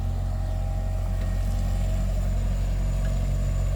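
A CAT 313B CR excavator clears weeds from a canal. Its engine idles in a steady low drone with a constant hum, close and continuous, and no one talks.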